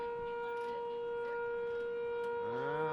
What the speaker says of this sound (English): It's just a random siren going off like crazy.